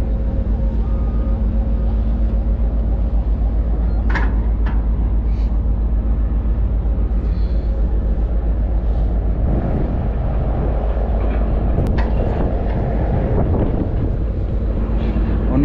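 Low steady engine and machinery drone aboard a large ship as it departs Shanghai port, towed by a tugboat on a line, with wind buffeting and faint background voices throughout.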